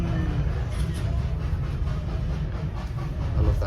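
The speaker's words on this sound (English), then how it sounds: "Just had a load of steam at the side of the train" A steam train on the railway near Haworth gives off a steady low rumble and hiss of steam, continuous and fairly close, with faint rail noise and no clear speech.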